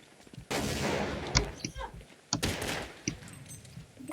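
Counter-Strike 1.6 gunfire: two loud bursts of shots with sharp clicks and reloading clatter between them, fairly close, with sporadic in-game noise around.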